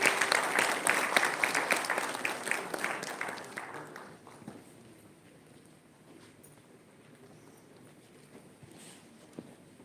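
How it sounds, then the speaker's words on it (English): An audience at a university event gives dense applause as panelists come on stage, the clapping loud for a few seconds before thinning into a quiet room murmur. "Let's give them a warm round of applause,"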